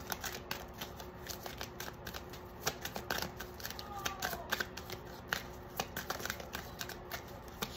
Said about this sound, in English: When I was shuffling the deck